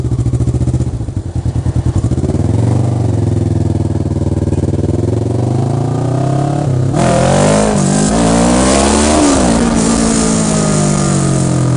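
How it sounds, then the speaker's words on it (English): Motorcycle engine revving hard during a wheelie, a loud, close, continuous mid-pitched roar that rises and falls as the throttle is worked, with a surge of higher revs partway through. "That was a good wheelie. It was really up there."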